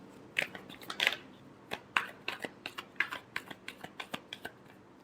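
Tarot cards being shuffled during a love reading: a run of crisp, papery riffles and soft snapping clicks in an irregular rhythm, close and fairly quiet, with no voices.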